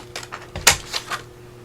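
Scissors with glue stuck to the blades cutting paper in a few close crisp snips, one sharper clack in the middle, with quiet pauses between.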